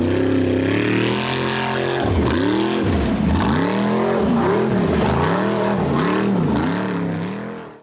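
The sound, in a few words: off-road buggy engine accelerating up a steep sand dune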